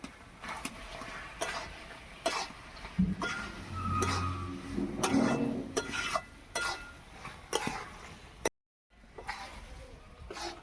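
Jujube pickle being stirred in a pan with mustard paste and vinegar, a run of light scraping and clinking spoon strokes against the pan, close and fairly quiet, with a brief silent gap near the end.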